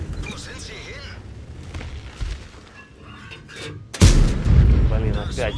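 Tank cannon fires in a Swedish Spz 57 Rh 115 tank video game, a loud booming shot near the four-second mark after a stretch of game noise. A player speaks over the battle sounds.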